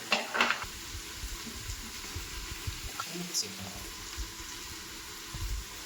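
Onions, tomato, ginger and turmeric fry in a pan for mutton liver chukka, giving a soft, steady sizzle with a few stirring scrapes and clinks while a person talks over it.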